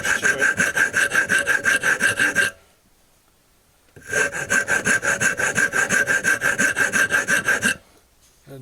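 Wooden shoe-rack parts are smoothed off by hand with a rasp, giving rapid rhythmic scraping strokes in two loud, close bursts separated by a pause.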